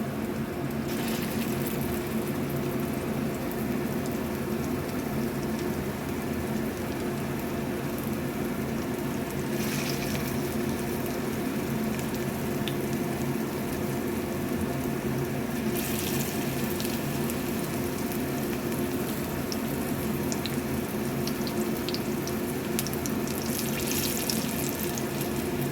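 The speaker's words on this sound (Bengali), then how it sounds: "তেল গরম হয়ে গেছে, এবার পকোড়াগুলো ছেড়ে দেবে।" Chicken pakoras frying in hot oil make a steady, dense hiss and sizzle that holds evenly throughout, with no talk.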